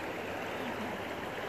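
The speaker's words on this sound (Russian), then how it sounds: "Приехали на берег быстрой горной реки." Steady, rushing water fills the clip, a dense, continuous roar of a fast mountain river flowing close by.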